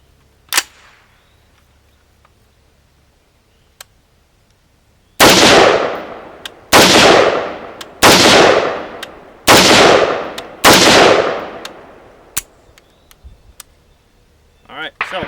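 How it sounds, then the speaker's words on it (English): A rifle with a Crane-spec barrel fires five rounds of Winchester M193, loud sharp close cracks with about a second and a half between shots, each followed by a short decaying echo, after a quiet stretch with a few faint clicks. "it's going to be 5 rounds, Winchester M193, and we will go from there"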